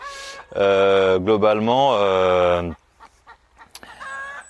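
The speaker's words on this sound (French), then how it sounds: "J'ai 6 poules, j'ai 2 coqs. Donc il y a ce coq qui est là" Chickens and a rooster on a permaculture farm, a loud, close drawn-out crowing call followed by quieter scattered clucks and a short squawk near the end.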